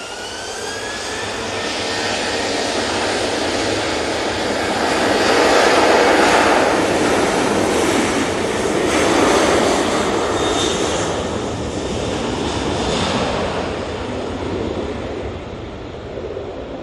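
A Ryanair jet in special livery takes off at Manchester Airport, its engine roar loud and sustained, swelling to a peak midway and then slowly easing as it climbs away, with no voices.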